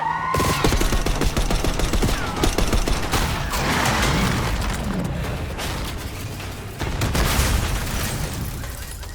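Dense gunfire in a Black Ops 6 video game cutscene, sustained loud automatic bursts with booms and mechanical clatter filling the whole stretch, close and continuous.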